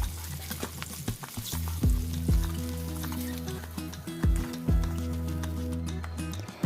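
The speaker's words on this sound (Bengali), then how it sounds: "বন্ধুরা, আমার মাছগুলো ভালো করে ভাজা হয়ে গেছে" Fish pieces fry in hot oil, giving a steady sizzle broken by several sharp scrapes and clanks of a utensil against the pan. The sound is close and moderately loud, with no talking.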